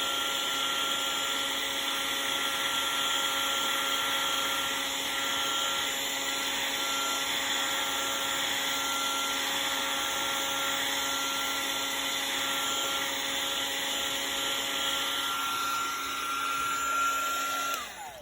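A heat tool blows steadily for embossing, melting powder on a foiled background, a constant close whirring hum with a whine that holds steady before cutting off at the end.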